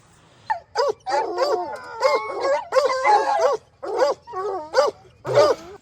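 Hunting hounds being collared before a bear hunt howl, yip and bay loudly and close in overlapping bursts, several dogs calling over one another.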